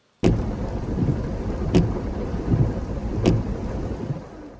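Torrential rain roars steadily over the town centre of Koplik in the Malësia e Madhe area during flooding, with several sharp cracks standing out above the downpour, loud and close.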